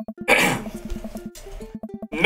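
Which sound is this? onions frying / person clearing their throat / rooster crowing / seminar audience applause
person clearing their throat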